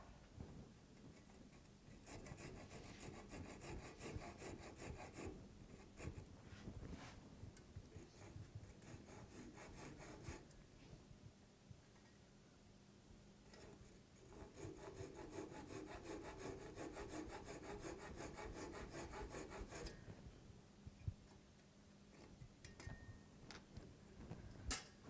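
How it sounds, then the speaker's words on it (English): A hand saw cuts off a wooden part, with quick rhythmic rasping strokes in steady bursts and brief pauses between them, close and fairly quiet. "I can saw this part off."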